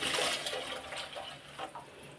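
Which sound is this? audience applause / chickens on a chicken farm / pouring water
pouring water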